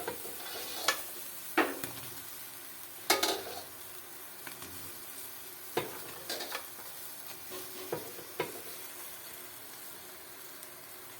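Ayurvedic hair-oil herbs stirred into boiling water in a pot: a quiet bubbling bed broken by irregular clunks and scrapes of a spoon against the pot.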